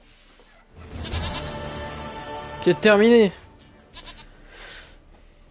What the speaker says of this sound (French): Une chèvre à moi, gentille, douce, Biquette.